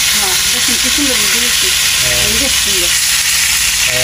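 Fish sizzling loudly in a frying pan, a dense continuous hiss up close, while people talk over it.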